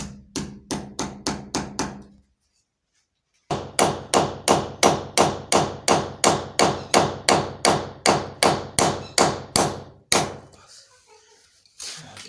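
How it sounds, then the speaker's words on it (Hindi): Hammer blows driving nails into a PVC wall panel during interior installation: a quick series of sharp, loud strikes, a brief pause, then a long steady run of evenly spaced close hammer hits. "ये जगह इतनी शार्प है ना कि यहाँ पे क्लिप नहीं लग सकता, इसलिए डायरेक्ट हमने कील लगा दी है"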